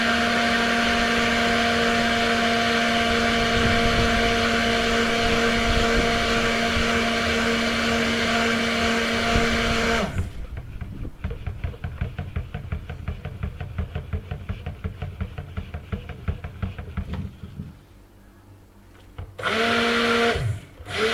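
A stick blender whirs steadily through cold process cocoa butter soap batter as it is brought to trace, a loud continuous motor hum for about ten seconds, then it stops and quieter knocks and handling noises follow before a brief final burst.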